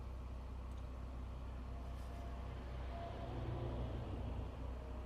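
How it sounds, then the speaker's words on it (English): Evening commuter road traffic passes steadily, a continuous low rumble of cars and heavier vehicles with a louder pass-by near the end, heard from nearby. "And all this traffic here."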